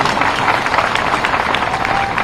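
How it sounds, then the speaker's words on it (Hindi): A large crowd at a public government event applauds the Prime Minister, giving a dense, even wash of clapping that holds steady throughout. "एक बार तालियां बजा के प्रधानमंत्री जी का अभिनंदन कीजिए, स्वागत कीजिए"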